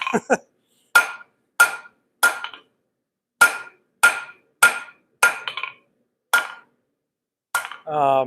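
Sharp metallic blows from a Harbor Freight hammer on metal on an anvil ring out one at a time while blacksmithing hooks, about ten strikes at an irregular, unhurried pace, close and loud, with brief silence between them.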